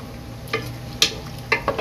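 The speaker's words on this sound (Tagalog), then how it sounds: "Siyempre, halo-haloin natin." Tomato sauce being stirred in a pan: a few sharp clicks and scrapes of the utensil against the pan, heard over a low sizzle.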